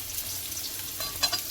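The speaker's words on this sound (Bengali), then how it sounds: "এখানে চলছে হচ্ছে বেগুন ভাজা" Eggplant slices frying in oil in a pan, a steady soft sizzle throughout with a few brighter crackles and stirring scrapes toward the end, fairly quiet and close.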